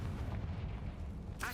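Confringo fire spell exploding in Hogwarts Legacy on PS5, a low rumbling boom heard fairly faint under game ambience, with a sharp brief sound near the end.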